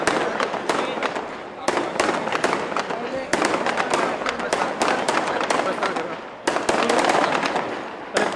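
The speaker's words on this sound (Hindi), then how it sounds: "पटाखा बंद होना चाहिए," Rapid, dense volleys of firecrackers crackle and bang continuously at a Govardhan Puja celebration, loud and close, with a brief lull before another burst.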